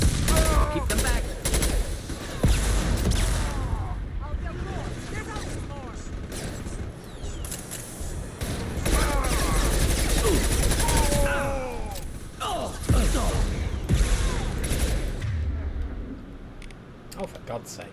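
Rapid bursts of gunfire from the video game Mass Effect 2 run through a combat scene, with repeated volleys, weapon effects and explosions, while voices talk over the fighting throughout.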